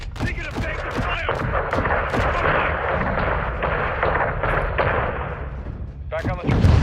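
Heavy gunfire and booming artillery in Call of Duty: Modern Warfare II pound continuously near a cartel gas station, dense bursts of shots layered over a rumbling battle bed, with radio chatter mixed in.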